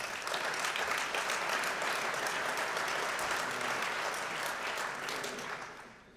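An audience at an event opening gives sustained applause: many hands clapping densely and steadily, then tapering off near the end.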